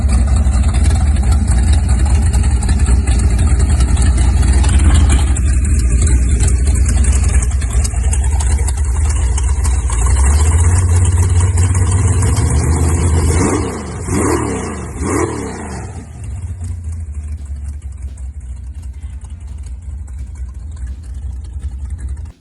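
A 1963 Plymouth Belvedere street-legal drag car with a 440 big block engine rumbles loudly at close range, its exhaust rising through a long rev that climbs, then blips sharply three times before it drops back to a lower idle.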